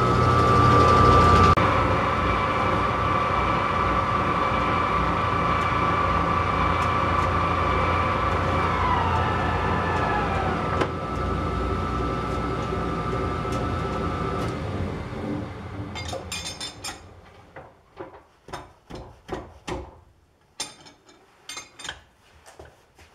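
A homemade sewer slinger machine, built from a massive block of steel, runs on a test spin with a loud, steady mechanical hum and whine. It winds down after about fifteen seconds, leaving scattered knocks and clatters.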